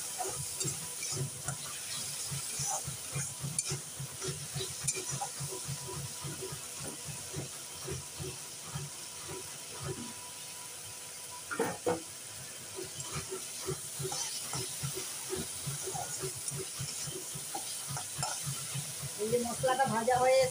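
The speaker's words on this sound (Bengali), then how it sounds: "ভাজা হয়ে এসছে, তেল ছেড়ে ছেড়ে যাচ্ছে" Spice masala with a pinch of sugar frying in oil, a steady soft sizzle with stirring scrapes and clinks throughout, occasional speech nearby and a louder clatter near the end.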